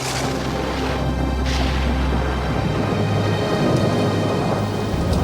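A tropical thunderstorm with torrential rain: dense, steady rain hiss fills the whole stretch while low rumbling thunder rolls underneath, with a few sharper crackles breaking through.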